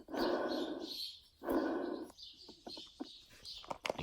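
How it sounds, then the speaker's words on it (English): Birds chatter and call outdoors near a 1993 Ford F-250 with a 7.3 IDI diesel, loud bursts of calling followed by sparser chirps and a few sharp clicks. "If you can hear all them stupid birds."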